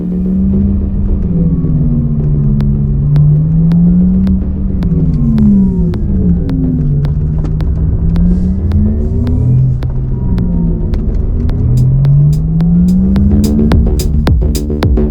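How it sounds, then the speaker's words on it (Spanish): A low synthetic motor hum from a Porsche Taycan Turbo Cross Turismo electric car drones continuously, its pitch sliding up and down as the car accelerates and eases off, steady and fairly loud inside the cabin. "cubrir las frecuencias de los motores eléctricos con un sonido sintético"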